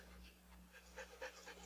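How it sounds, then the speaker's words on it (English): A dog pants in quick, soft rhythmic breaths, faint and close, over a low steady hum, with a few slightly stronger huffs near the end. "That fucking dog."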